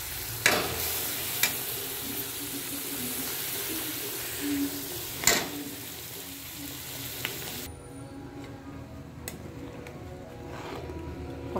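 Spiced water cooking with potol for dolma in a pan, a soft sizzle under occasional sharp clinks of a spoon against the pot, fairly quiet and close.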